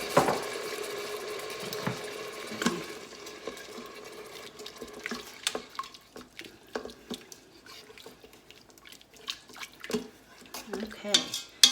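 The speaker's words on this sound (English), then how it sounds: "we're gonna add in 1 cup of this broth. That'll help deglaze the pan even more." Broth is poured into a hot Instant Pot insert to deglaze it during sautéing, giving a liquid splash and pour that settles into scattered small clinks and drips, quiet and close.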